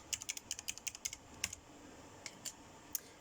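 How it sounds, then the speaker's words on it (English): Quick, light keystrokes on a computer keyboard as ID card details are entered, a rapid run of clicks followed by a few scattered taps, close and quiet with no talk. "So type in the information and the expiry."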